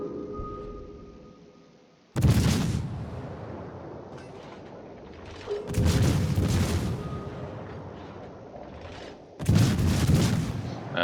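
Warship Neptune fires heavy gun salvos at an enemy ship in a naval battle game, three loud booming volleys a few seconds apart, each trailing into a long rumbling decay.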